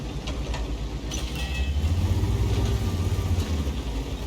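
Strv 103B Swedish tank destroyer in World of Tanks, with a Rolls-Royce engine and a Caterpillar turbine, running with a steady low throbbing rumble, moderately loud and alone.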